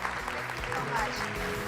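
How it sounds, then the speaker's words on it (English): An audience at a festival opening forum claps steadily for a guest speaker, with dense, continuous applause at moderate distance and a few faint voices mixed underneath. "Let's give Dr. Tan See Leng a big round of applause."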